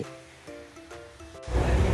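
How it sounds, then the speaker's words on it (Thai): Water of the Phaya Nak waterfall in Chonburi, Thailand, heard as a steady wash of rushing water that swells louder toward the end, with no talking over it. "นั่งฟังเสียงน้ำตกพญานาคนะคะทุกคน"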